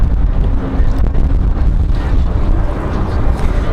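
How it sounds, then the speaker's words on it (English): Strong wind gusts buffet the microphone at an outdoor plane-spotting spot beside Raleigh-Durham International Airport, a loud continuous rumble with no clear break throughout. "wind is a whipping"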